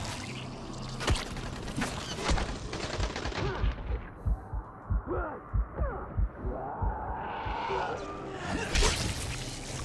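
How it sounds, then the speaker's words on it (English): Gunfire in the zombie game Dying Light: a string of sharp, punchy shots spaced in an uneven rhythm, with louder bursts at the start and end over game ambience. "Yeah, I did hear gunshots."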